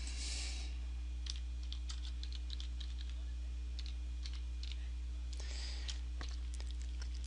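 Typing a file name on a computer keyboard, a brisk run of key clicks that pauses briefly midway and resumes, close and clear over a steady low electrical hum.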